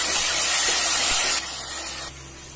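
Onions with ginger-garlic and curry leaves sauté in a pan over low heat, giving a loud, steady close-up hiss that drops in level twice partway through, with no voices.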